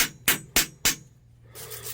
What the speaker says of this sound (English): Grab your slag hammer so we can knock this off.